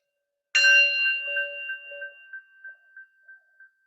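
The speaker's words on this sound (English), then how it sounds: "taking the sound of the bell, following it to the end" A single bell is struck to open a gentle yoga practice, giving one clear ring after a moment of silence that fades slowly with a pulsing, wavering shimmer over several seconds.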